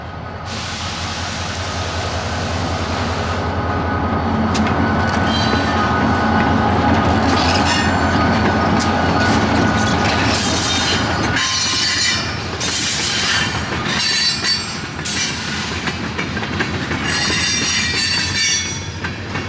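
A Milwaukee Road GP40 locomotive passes on the Lake Line Railway, a loud continuous rumble of rolling cars with squealing wheels and bursts of rail clatter, close by and sustained throughout.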